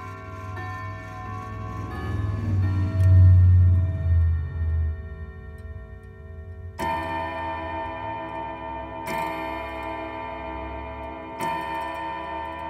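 An Emperor triple chime grandfather clock plays its 4 o'clock tune, with resonant chime notes ringing out clearly one after another and decaying slowly, steady ticking underneath in a quiet room.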